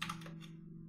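A few quick computer keyboard keystrokes clatter close and soft over a low steady hum, then fade into near quiet.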